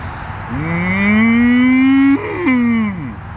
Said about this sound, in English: The moo, the cow, you know?